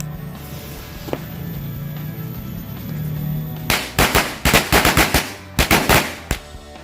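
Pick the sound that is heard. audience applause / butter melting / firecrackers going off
firecrackers going off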